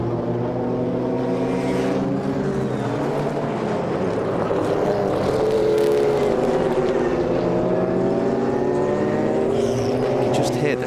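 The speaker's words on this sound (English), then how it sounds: "we'll hear the back of the Mercedes V8 in the Sauber C11 as it comes down towards Graham Hill Bend" A Mercedes V8 in a Sauber C11 race car runs loud and steady through a bend at a historic race meeting, its engine note rising and falling as it passes. Commentary-style voices sound faintly underneath.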